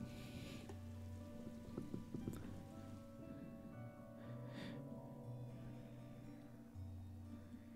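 Rain falls in the video game Darkside Detective, a soft continuous patter over a low droning hum, with a few faint sharper ticks and no talking.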